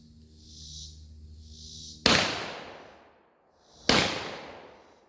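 A shotgun fires Hornady double aught 8-pellet buckshot at a range, two sharp, loud blasts about two seconds apart, each trailing off in a rolling echo over a faint background hum.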